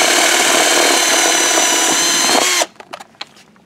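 A power drill bores a hole during Stage 2 tuning work on a Kawasaki Z900RS motorcycle, a loud, steady high whine running for about two and a half seconds before cutting off, followed by a few light clicks and knocks.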